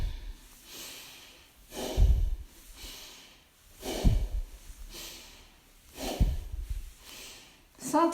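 Slow, deep breaths in and out during a gentle adapted yoga session, each long inhale and exhale rising and fading in a steady rhythm about every two seconds, close and fairly soft.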